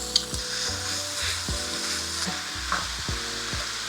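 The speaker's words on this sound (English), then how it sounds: "we're going to be adding in our ground beef / mince" Ground beef mince, 680 grams, hits a hot pan for bobotie and sizzles loudly and steadily, with a dense crackle and the occasional scrape of stirring close by.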